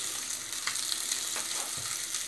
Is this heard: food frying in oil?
yes